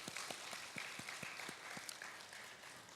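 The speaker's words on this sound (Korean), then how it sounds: "격려하면서 한번 박수 한번 쳐주겠습니다" Applause in a church service during a Korean evening worship, soft and fairly distant, with a handful of distinct claps in a loose rhythm over a quiet crowd murmur.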